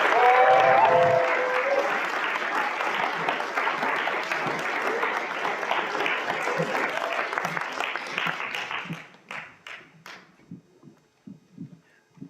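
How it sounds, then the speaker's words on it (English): Audience at a poetry anthology launch breaking into a long, full round of applause that holds steady for several seconds, then thins to scattered last claps before fading out. A voice briefly opens the moment. "let's give a huge round of applause for our next 3 readers"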